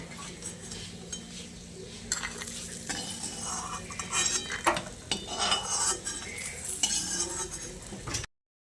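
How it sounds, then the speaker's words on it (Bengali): Lentil dumplings fry in oil in a pan over a low-to-medium flame, a soft sizzle broken by repeated scraping and clinking of a spoon stirring against the pan, close by and without talking. "গ্যাসের ফ্লেমটাকে লো টু মিডিয়ামে করে বড়িগুলোকে আমি লালচে করে ভেজে নিচ্ছি।"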